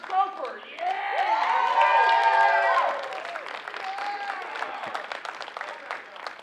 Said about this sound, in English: let's give one more round of applause to all your submissions here tonight